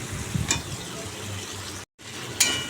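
Potatoes frying in a pan with spices during cooking of a green jackfruit curry, giving a low, steady sizzle with a few brief clinks of stirring and a short dropout partway.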